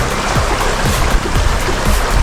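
River water flowing steadily, a continuous broadband rush and gurgle with small splashes, close and fairly loud throughout, no talk over it.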